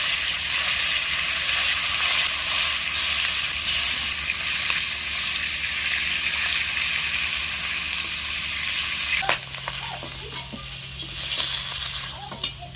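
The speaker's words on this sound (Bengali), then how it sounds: "তেল গরম হয়ে গেছে, এবার আমি মাছগুলো ভেজে নেব।" Fish frying in hot mustard oil in a wok gives a loud, dense, continuous sizzle that settles into a quieter crackle with light scraping and stirring toward the end.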